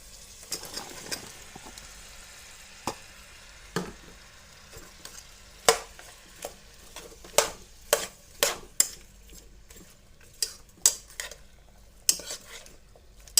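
Potatoes being stirred into a pan for aloo bhaji: a soft frying sizzle sits underneath as a spoon scrapes and knocks against the pan in irregular, sharp clatters, which get denser toward the middle and end.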